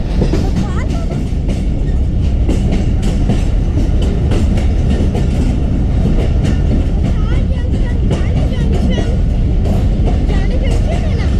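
A passenger train rolls steadily through a large railway junction with a loud, continuous rumble and rhythmic clickety-clack of wheels over rail joints, with faint voices in the carriage underneath.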